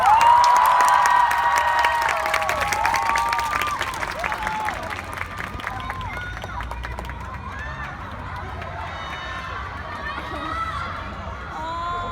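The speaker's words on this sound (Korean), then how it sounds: "요 타이밍에 다시 한번 선수들에게 박수 한번 주세요" Loud audience applause for players at an Apex esports season final, with cheering and shouts from a large crowd, strongest at first and easing slightly while steady clapping continues.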